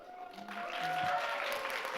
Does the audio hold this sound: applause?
yes